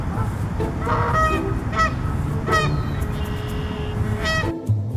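Several geese honk repeatedly and loudly, their nasal calls overlapping in an irregular chorus over a rumbling background.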